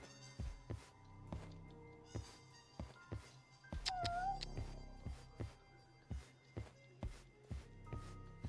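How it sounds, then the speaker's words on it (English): A cat meows once, short and fairly faint, in the video game Judgment, over a steady rhythmic pulse of game music and soft footstep-like taps. "I hear a cat."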